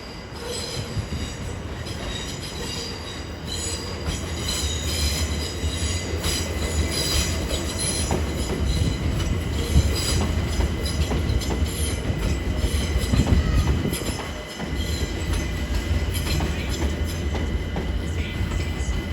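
Train passing through Stratford station on the Great Eastern Main Line in London, loud rumbling and rail clatter with squealing wheels throughout, close by and continuous.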